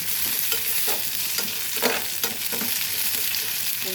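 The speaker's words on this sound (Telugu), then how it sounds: "ఇప్పుడు కొంచెం కరివేపాకు వేసుకుందాం లాస్ట్లో" Curry leaves frying in hot oil as the final seasoning for spinach dal, a loud close crackling sizzle with repeated spatula stirring strokes, no voices.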